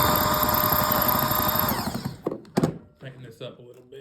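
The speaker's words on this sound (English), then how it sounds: "So, use a drill." A power drill whirs loudly and steadily for a couple of seconds, spinning an engine flywheel, then winds down, followed by a few clunks and handling noises.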